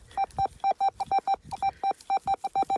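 A metal detector sweeping old farmstead ground in Ukraine gives a clean, even signal of rapid pulsed beeps, about five per second, loud and close with low handling noise between them.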